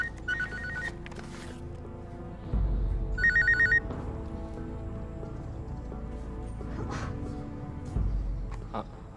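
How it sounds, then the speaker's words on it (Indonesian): A telephone rings in two short electronic trills, the second louder, over a low background hum and faint clatter, with no talking. "Angkat, itu telepon dari bos."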